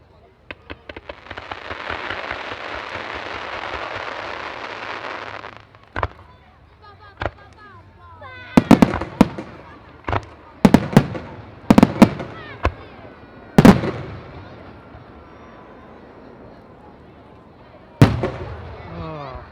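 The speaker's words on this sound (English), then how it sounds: "Congratulations from an amazing show from Illusion Fireworks" Fireworks from a European display at the Abingdon Firework Festival: a long crackling hiss opens, then a series of sharp, loud bangs and pops at irregular intervals with crackle between, and a faint voice is briefly heard.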